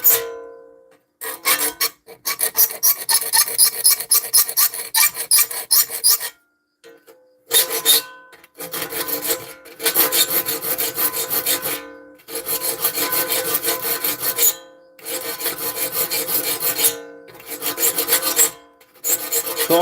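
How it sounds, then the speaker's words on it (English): Hand file worked across saw blade teeth in repeated bursts of harsh metallic rasping, each run of strokes separated by short pauses, close and loud with no talk. "whenever you're filing teeth like this"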